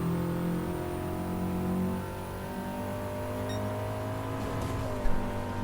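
Race car engines in Gran Turismo 7 during a multiplayer VR race drone steadily with layered harmonic whine, holding a constant pitch before a brief sharp knock near the end.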